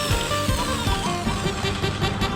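A power drill whirs steadily through metal, a continuous grinding whine with slight fluctuations, close and fairly loud.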